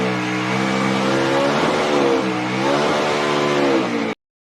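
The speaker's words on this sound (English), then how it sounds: "Great burnout by Tyler Reddick" A stock car doing a victory burnout at Daytona International Speedway, its engine revving hard and steady at close range for about four seconds, pitch rising and falling slightly before cutting off abruptly.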